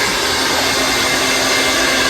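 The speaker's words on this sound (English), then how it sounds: "follow with the blow dryer." A loud hair dryer runs steadily close by during a hair blowout, a constant airy whoosh with a high motor whine.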